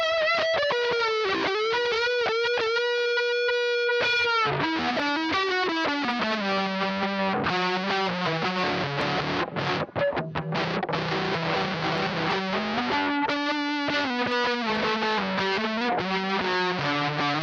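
An electric guitar plays through a Boss GX-10 multi-effect preset, loud and sustained with heavy distortion and a chorus-like shimmer. Chords ring and shift continuously, with one held note near the start, and no talk.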